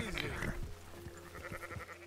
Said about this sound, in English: Come on, sort yourselves out, sheep.